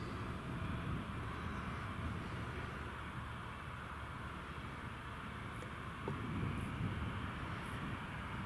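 Aircraft arriving at Newcastle International Airport, a steady distant jet roar filling the whole span at moderate level with a slight swell near the end.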